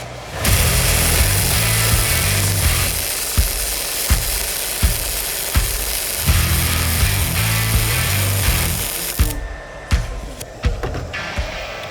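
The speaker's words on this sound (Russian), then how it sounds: "Во-первых, воняет флюсованная проволока, я обычно не варю. А так в целом варится очень приятно. Шкварчит," Flux-cored wire welding, crackling and sizzling in a steady close-up hiss broken by regular sharp pops, which breaks off near the end into scattered softer crackles.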